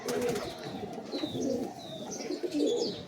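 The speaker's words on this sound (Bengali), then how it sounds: "টিপলার পায়রা, এই স্টিপলার পায়রা" Tippler pigeon cooing close by, soft throaty coos repeating in short phrases, with light chirps and faint background noise.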